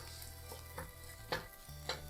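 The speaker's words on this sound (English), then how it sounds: "We're gonna saute this until it becomes golden brown." Chopped banana flower sautés in a pan, a faint soft sizzle with a few light scraping stirs, close and quiet with no talk.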